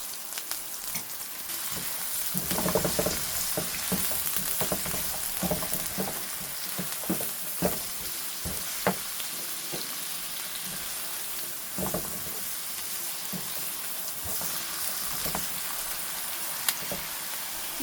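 Oil with salt sizzles and crackles steadily in a pan while frying for a raw tomato bhaji, a dense hiss with frequent stirring scrapes and pops, loud and close throughout.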